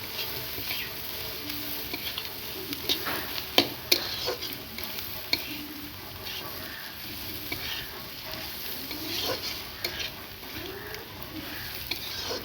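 Fish and chopped chilli sizzle in a hot pan while being stirred, with quiet scraping and light crackling patter that comes in uneven bursts over a soft, steady frying hiss.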